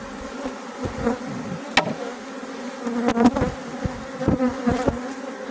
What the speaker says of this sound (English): These bees are aggressive. Very.